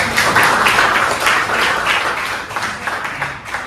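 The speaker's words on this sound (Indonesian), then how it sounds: "tepuk tangan dulu" Classroom applause from a group of students, steady dense clapping at moderate loudness throughout, fading slightly toward the end.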